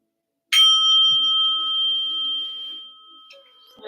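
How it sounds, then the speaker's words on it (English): A single bright bell is struck once to begin a yoga session. It rings out clearly in a quiet room and its sustained tone slowly fades over about three seconds. "So listen for the bell."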